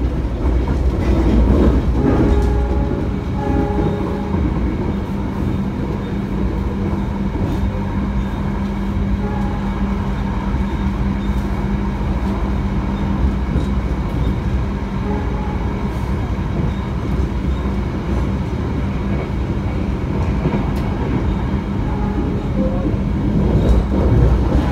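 The Argo Dwipangga passenger train in Indonesia is heard from inside a carriage while running near Kroya after leaving Purwokerto. A steady, loud rolling rumble with faint rhythmic clickety-clack wheel beats continues unbroken for the full length.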